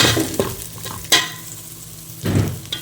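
Eggplant and onion frying in a little oil for a Tamil Nadu fish curry, a soft continuous sizzle broken by a few louder stirring scrapes and bumps, close by, no talking.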